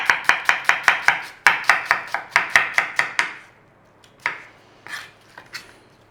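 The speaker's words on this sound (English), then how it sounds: "We want to slice the onions." A knife slices onions on a cutting board for a sausage pie, a quick, even run of about a dozen crisp cuts, then a pause and a few slower strokes.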